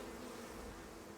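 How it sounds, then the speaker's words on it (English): Bees swarm and attack in the survival video game Icarus, a steady faint droning buzz with no talk over it. "No, I don't want to die by bees."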